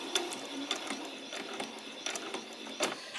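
A home sewing machine runs a back stitch down fabric, giving quick, uneven bursts of mechanical ticking and clatter that start and stop in short runs, close and fairly quiet.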